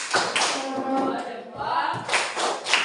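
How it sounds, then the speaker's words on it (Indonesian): A class of students performs a 'tepuk salut' clap routine for a group: bursts of group clapping open and close the passage, with voices chanting in unison through the middle. "Kasih tepuk salut ya."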